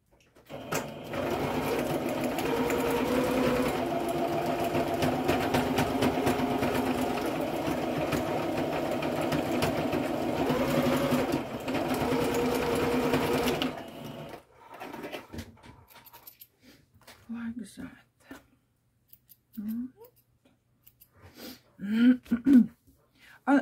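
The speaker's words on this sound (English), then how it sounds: "I will stitch it down quickly with sewing machine." A sewing machine stitches a cheesecloth page collage steadily for about fourteen seconds, then stops, followed by quiet rustling and a few soft throat sounds.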